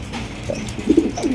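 A pair of high-quality stretcher pigeons gives soft, low coos, a faint one first and then a closer run of throaty calls toward the end, with no other voices.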